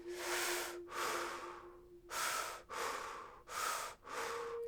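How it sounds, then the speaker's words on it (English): Big, deep breaths drawn in and pushed out through the mouth during a Kundalini meditation in Sedona, six long airy whooshes in a steady rhythm, close and alone with a faint tone beneath. "We're going to take those big inhales and exhales through the mouth."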